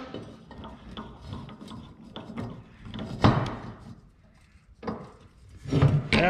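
Hand filing a small hump on a Wisconsin engine cylinder head clamped in a vise, heard as rough rasping strokes in short bursts, with louder passes near the middle and end amid a quiet workshop.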